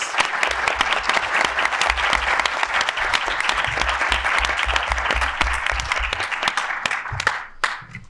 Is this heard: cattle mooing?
no